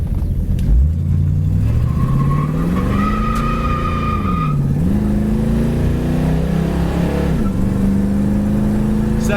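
A 1969 Ford Mustang Mach 1 accelerates hard through the gears, its loud V8 note climbing, dropping at each shift and climbing again, close to the microphone with no talking.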